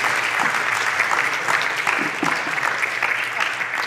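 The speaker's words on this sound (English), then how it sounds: "Can we give another round of applause for our musicians and Ray this morning?" Sustained applause from a large church congregation for the musicians, steady dense clapping throughout.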